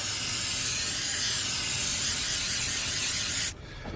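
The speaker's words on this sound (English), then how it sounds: "So I'm giving it a nice spray." A continuous cooking spray hisses close up onto a pan for about three seconds, then cuts off abruptly, leaving quiet room noise.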